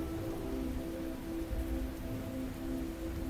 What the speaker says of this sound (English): At some point, the rain began to fall once more.